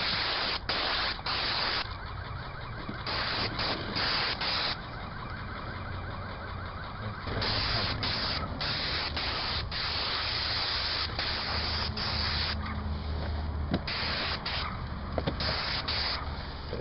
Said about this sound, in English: spraying our stucco with a super paint, Sherwin super paint flat